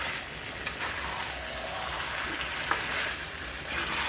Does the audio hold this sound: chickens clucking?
no